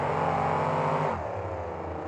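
Two KORR off-road racing trucks, Damage Control and Loud Pedal, roar off the start line together in a 2003 monster truck race, their engines revving hard and loud, then settling into a steady, slightly receding drone.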